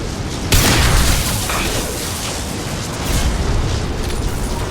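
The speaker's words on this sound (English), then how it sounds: "Concussive shot ready. This should slow them down. Firing." A concussive shot fires and explodes in Mass Effect 2 during the Grey Broker mission, played on Xbox Series X: a sudden loud boom lands early, then a dense rumbling blast wash sustains throughout, with a second swell near the end.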